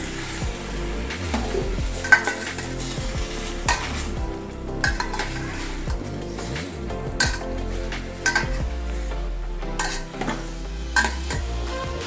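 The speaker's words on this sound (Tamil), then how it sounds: "அதை கிளறி விட்டுக்கோங்க" Mixed fruit payasam being stirred in a pan, with steady scraping and swishing of a spoon against the metal and a soft sizzle underneath, alone and close.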